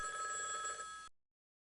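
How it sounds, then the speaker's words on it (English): A telephone bell ringing in a short bright burst, loud and alone, cutting off abruptly after about a second. "Just then, the phone rang."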